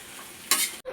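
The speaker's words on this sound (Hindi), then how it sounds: "तड़का लगाया है सिर्फ और लाल मिर्च और हरी मिर्च डाली है।" Tadka of red and green chilies hitting hot oil, a brief burst of loud, close sizzling that flares suddenly, cuts off sharply, then resumes over a faint background hiss.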